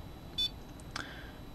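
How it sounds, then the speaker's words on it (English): A single short, high-pitched electronic beep from a Siglent SPD3303C bench power supply when set below its limit, followed by a faint click against a quiet hum. "you get a little beep if you go below the limit"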